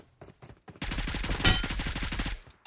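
Gunfire in the mobile battle-royale game PUBG Mobile: a faint early shot, then a fast automatic burst of evenly spaced rounds lasting about a second and a half, loud and close.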